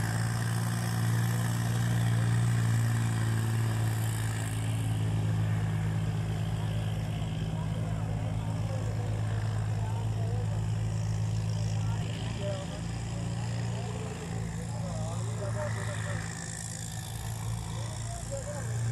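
Holland 3630 55 HP tractor running its engine at a village tractor-pulling contest in Bhundri, Ludhiana, a steady low throbbing drone that holds for the whole stretch under busy crowd noise and announcer chatter.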